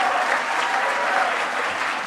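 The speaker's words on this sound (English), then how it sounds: "so that we can give you a round of applause" Steady, dense applause from an audience at a graduation ceremony for master's students in international affairs, sustained and even throughout.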